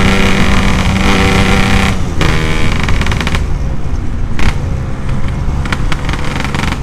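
Yamaha RX-King two-stroke motorcycle with a lightweight aftermarket exhaust, revved hard in a loud, raspy, continuous roar with surging pitch, close by and filling the whole stretch.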